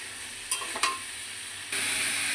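Potato and cauliflower sauté with spices in a pan, a brief steady sizzle with two quick utensil scrapes early on, then the frying noise swells louder toward the end.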